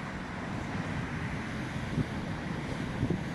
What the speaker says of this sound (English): The wind's picked up a bit, which is making it a bit easier.